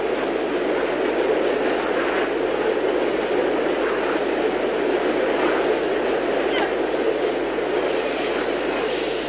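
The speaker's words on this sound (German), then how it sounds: "Hinter dir kommt ein Zug" A train rumbles steadily past close behind the player in the video game Mirror's Edge, a loud continuous roar of wheels on rails with faint squealing throughout.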